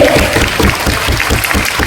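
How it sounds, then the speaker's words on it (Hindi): An audience at a convocation ceremony applauds, and the steady, dense clapping of many hands holds even and loud throughout. "और जोरदार तालियां हम सबके मिश्री के लिए।"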